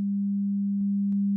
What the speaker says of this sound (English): If I continue to slide the copy back in time, the two sine waves will stop cancelling out